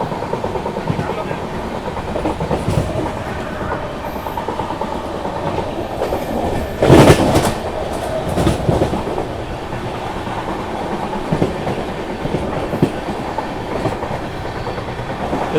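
The 12622 TamilNadu Express rolling along the rails near Peddapalli Junction, a continuous loud rumble with rhythmic clickety-clack of wheels and a brief louder rush midway, plus faint voices in the background.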